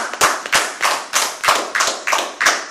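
A church congregation applauds Jesus with rhythmic, close, fairly loud clapping: about nine evenly spaced rounds of claps in quick succession, with no speech over them.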